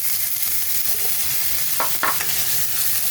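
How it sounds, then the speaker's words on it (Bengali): Chopped onions and potato pieces fry together in hot oil, a steady loud sizzle broken by a few sharp scraping stirs near the middle. "এখন পেঁয়াজ কুচানোগুলো এই তেলের মধ্যে দিয়ে দেবো। সাথে দিয়ে দেবো আমি আলুগুলো। এই দুটো একসাথে একটু ভাজা ভাজা করে নেবো আমি।"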